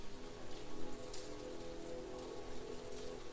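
Steady rain pattering on a surface in a Dungeons & Dragons Curse of Strahd game set in Barovia, a soft continuous hiss with scattered drop taps and no talk.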